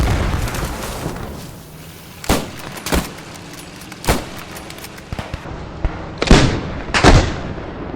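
Rifle shots ring out in a Squad 44 shooting-range drill, several sharp cracks spaced a second or so apart against steady ambient game noise, with a pair of louder reports near the end.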